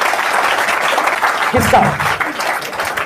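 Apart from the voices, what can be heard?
audience applause at seminar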